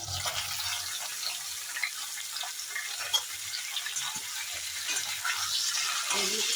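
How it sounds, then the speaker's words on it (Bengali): Potato, eggplant and drumstick pieces fry in oil with green chillies, giving a soft continuous sizzling hiss with faint stirring, no talk. "একটু তরকারিগুলো একটু ভাজা ভাজা করে নেব।"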